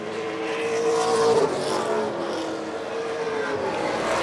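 Pro stock race cars roar around an oval track in a continuous loud engine drone, one car swelling as it passes nearby before settling back into the pack's sustained roar.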